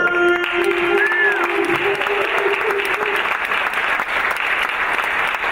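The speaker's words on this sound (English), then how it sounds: "I once again want to have a round of applause for the hardest working man in show business, Dr. Tom Strange!" Audience applauding at a university jazz ensemble concert, dense sustained clapping from a crowd filling the hall throughout, with a brief tonal note fading out at the start.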